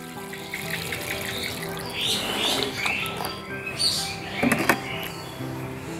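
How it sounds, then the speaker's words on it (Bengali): Water poured into a pot holding a freshly transplanted red kanchan plant, a steady close splashing and trickling that swells midway, with birds chirping faintly in the background and no talk. "টব ভর্তি করে জল দিয়ে দেবো।"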